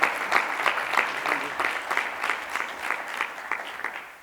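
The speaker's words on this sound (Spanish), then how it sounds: "también les damos un aplauso porque yo creo que se lo merecen" Audience applause for finalists and champions at a pre-university debate league, steady rhythmic clapping from a modest crowd that holds fairly even before tapering slightly.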